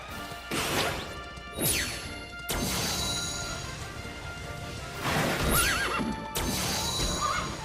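Galloping hooves and repeated horse neighs during a horse race in the video game Dragon Quest XI, with loud crashing bursts between the whinnies and no talking.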